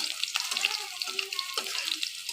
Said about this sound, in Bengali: আমি দিয়ে দিব এই মুহূর্তে আরেকটু কাঁচা পেঁয়াজ এতে করে পুড়বে না